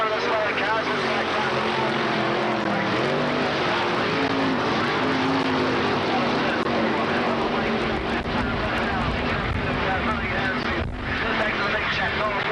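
Dirt track race cars from the 1985 War of the West roar continuously at full throttle, a dense steady engine drone with shifting pitch as cars pass, under an excited commentator calling the action.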